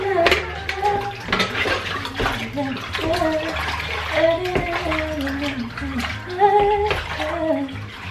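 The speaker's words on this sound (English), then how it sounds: "Time to wash up." Tap water runs steadily into a sink while dishes are washed up after baking a cake, close and continuous with light clinks of pots, and a voice speaking over it.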